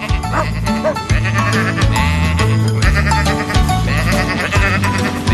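Cartoon sheep bleat over a steady, loud musical backing, their wavering cries rising repeatedly through the clip.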